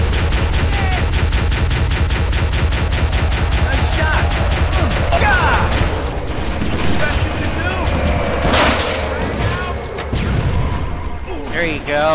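Dense, continuous weapon fire and explosive booms from the Halo: Combat Evolved video game, including a rocket launcher, fill the whole stretch loudly, with a player's voice talking intermittently over the battle.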